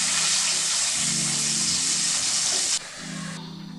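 Beef steak and onion fry in a hot pan with a loud, steady sizzle, close to the microphone, briefly cutting and resuming as the food is stirred, with no talking.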